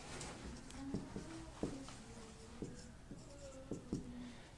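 A pen writes a maths problem by hand on paper, producing faint, close scratching strokes with a few sharper taps, quiet and steady against a soft background hiss.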